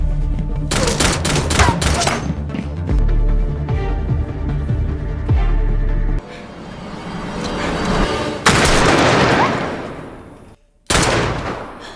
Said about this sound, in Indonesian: dalam aksi saling tembak itu, si Patua harus meregang nyawa di tangan Jonah